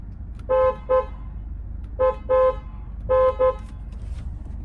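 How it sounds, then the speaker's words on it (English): A 2023 Audi TTS horn honks three times in short double bursts, each pair of blasts loud and close, with a quiet engine hum underneath. "I am going to have to honk the horn because I want to see what it sounds like"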